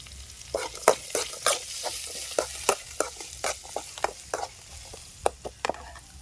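Curry leaves sizzle in hot oil for a mushroom fry, with a crackling hiss broken by frequent sharp scrapes and clicks of stirring in the pan, close and fairly loud, no talking.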